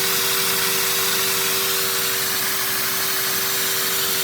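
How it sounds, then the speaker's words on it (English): A LEGO V10 vacuum engine running at idle, its throttles loud with a constant rushing, hissing airflow and a steady mechanical hum throughout, no voices. "those throttles make a lot of noise at idle"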